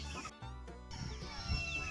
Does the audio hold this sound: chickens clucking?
yes